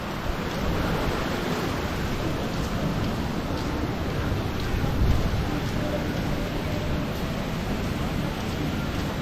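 Water pouring down an artificial waterfall along a busy Waikiki street, a steady broadband rush held at an even level throughout, with faint voices and city bustle mixed underneath.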